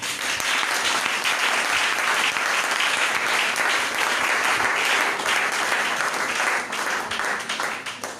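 A church congregation claps and applauds loudly and continuously, a dense wash of hands that holds steady and tapers slightly at the very end.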